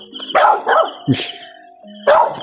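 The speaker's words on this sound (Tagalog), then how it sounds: "Yung aso. Yan yung aso." A dog barks several times in short, sharp bursts against a quiet background, fairly close.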